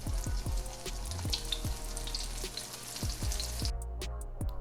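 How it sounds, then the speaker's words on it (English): Baby corn fries in hot oil in a pan, giving a steady close sizzle with scattered pops and crackles and occasional faint stirring taps. "Now while we were frying up our corn,"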